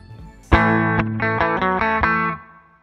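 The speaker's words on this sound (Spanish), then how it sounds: "Activamos el pedal de distorsión" An electric guitar played through a distortion pedal in the Helix Native amp plugin rings out loud, with a sharp opening chord followed by several rhythmic strummed hits that sustain with a gritty, saturated tone and then fade.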